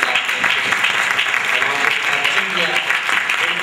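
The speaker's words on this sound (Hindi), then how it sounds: "अपनी तालियों की गूंज से इनको दाद दीजिए" Audience applause for poets at a mushaira on a company's first anniversary, a loud steady wash of clapping that holds evenly throughout, with faint voices mixed in.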